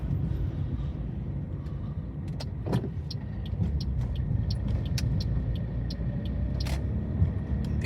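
A car driving around Stanley Park in Blackpool, heard from inside as a steady low engine and road rumble, with faint ticks and clicks from the cabin and no talking.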